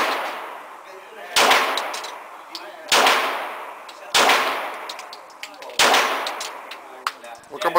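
Glock 17 9mm pistol fired at an indoor shooting range, four loud, sharp single shots spaced about a second and a half apart, each with a ringing decay.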